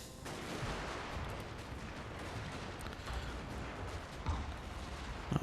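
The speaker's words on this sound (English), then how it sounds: "these artillery pieces are really something" Artillery fire in the Total War Shogun 2 Fall of the Samurai video game, a dense, continuous rumble of distant shots and battle noise with a few sharper cracks near the end.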